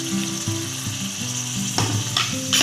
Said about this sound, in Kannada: ಸ್ವಲ್ಪ ಚೆನ್ನಾಗಿ ಹಸಿ ವಾಸನೆ ಹೋಗೋ ತನಕ ಚೆನ್ನಾಗಿ ಫ್ರೈ ಮಾಡ್ತಿದ್ದೀನಿ